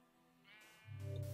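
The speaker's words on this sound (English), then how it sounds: "There you go, we've now caught ourselves a sheep." A Minecraft sheep gives a single drawn-out bleat that rises in level and holds to the end, clear and close against a quiet game background.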